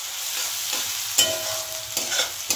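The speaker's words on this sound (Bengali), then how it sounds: "পেঁয়াজটা একটু ভেজে নেব" Onion frying in a pan for a low-spice Rupchanda fish sour dish, a steady close sizzle with a few sharp stirring scrapes and clinks.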